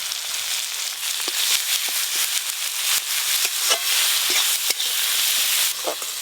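Chopped tomato, mustard, cumin, green chilli and garlic fry steadily in a hot pan, giving a dense, continuous sizzle with small crackles and spatters throughout, close and fairly loud, with no talking.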